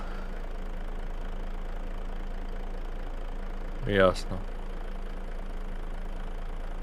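A tractor engine idles in Farming Simulator 25 as a steady low drone that runs the whole way through, with one short spoken word near the middle.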